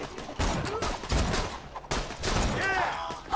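Pistol gunfire in the video game Borderlands 2, heard as dense bursts of shots and combat effects filling the clip, loud and continuous with a brief gap midway.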